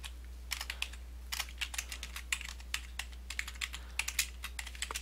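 Quick, light keystrokes on a computer keyboard come in uneven bursts over a low steady hum, close and fairly quiet, during spreadsheet chart editing.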